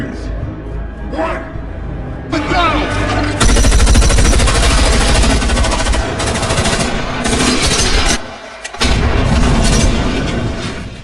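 Heavy bursts of rapid gunfire and booming blasts in an action film rattle continuously, loud and dense, with brief gaps and voices shouting underneath.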